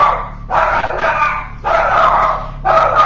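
A dog barking indoors as a child rides a small quad outside, three sustained bursts of loud, harsh barking in quick succession, close to the listener with no talk over them.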